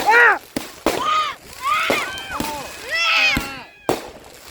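Fourth of July fireworks go off close by in sharp, booming cracks at irregular intervals, mixed with whistling and crackling, while voices shout and scream in between.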